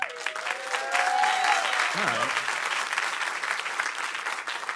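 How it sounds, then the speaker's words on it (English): Audience applause at a stand-up comedy album recording, a few seconds of crowd clapping with a brief voice sliding through near the start, moderately distant. "Let's save the applause for me and not the children"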